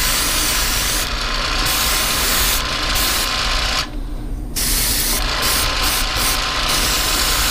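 An Iwata Eclipse HPCS airbrush runs at 35-38 PSI, a loud continuous hiss of air and paint spray with short bursts where the trigger is pulled further, and one brief dip near the middle.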